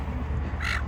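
Gull calling in a seaside caravan park in Ulverstone, Tasmania, a single harsh squawk rising clearly over steady low outdoor rumble.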